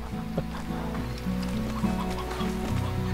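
Two roosters in the video game Slime Rancher give a series of short, clipped clucks in a steady, repeating rhythm, heard alone at moderate volume.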